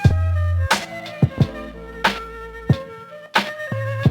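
A music loop plays through a lo-fi Reel to Reel effect preset called Flavor on an MPC, with punchy drum hits and sustained tonal notes repeating in a short pattern, alone with no talking.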